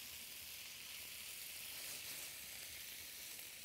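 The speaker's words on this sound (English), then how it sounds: "we're going to saute them for just a minute" Steamed Brussels sprouts sautéing in a pan with red pepper flakes: a soft, even hiss of sizzling that carries on steadily and faintly throughout, with no voices.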